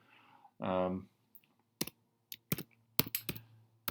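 Typing on a computer keyboard: a few scattered, sharp key clicks in irregular bursts, close by and fairly quiet, after a short spoken sound.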